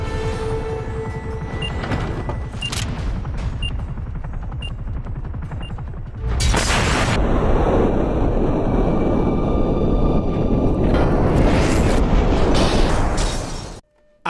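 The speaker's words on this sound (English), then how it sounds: "his uncle just tried to kill him with a closet bomb" Closet bomb blast in the video game The Darkness, with loud roaring rumble and crackling debris that surges midway, swells again, then cuts off abruptly, all without speech.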